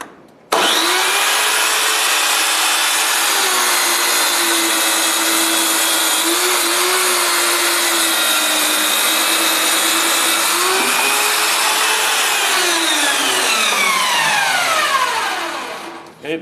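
A power saw blade cutting wood for a bottom shelf, with a loud, close, continuous whining cut that holds steady for several seconds and then winds down as the blade spins to a stop.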